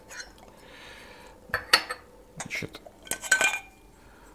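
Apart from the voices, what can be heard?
screwing together an Esbit camping coffee maker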